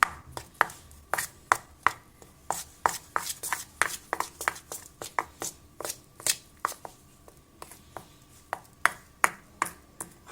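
Cocoa powder being stirred into marble cake batter with quick, sharp tapping and clicking strokes against the bowl, a fast irregular rhythm held steady, close and fairly quiet with no voices.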